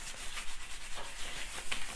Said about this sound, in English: use your shiny side to burnish, which is just helps the transfer go on